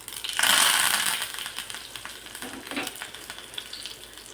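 Curry leaves dropped into hot oil with cumin and mustard seeds while tempering a South Indian tomato chutney, a sudden loud sizzling burst that settles into softer crackling and popping, heard close up without any talk.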